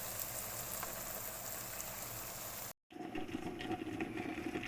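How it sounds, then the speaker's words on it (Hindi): Salted water with a tempering poured over simmers in a pot for a Kashmiri pumpkin dish, giving a steady bubbling hiss that breaks off for a moment, then resumes with more crackling. "अब मैंने उबलने को दिया रहेगा, ये पक जाएगा।"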